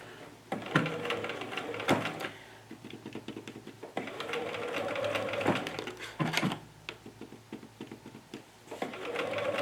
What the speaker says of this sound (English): run a couple stitches and see how long they are